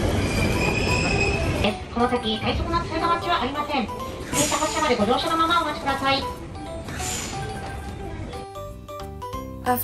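Inside a train in Tokyo, wheels squeal loudly in wavering high-pitched tones over a steady rumble of the ride, easing off toward the end as the car slows.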